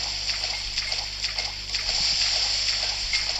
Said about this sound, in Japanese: 波が来る。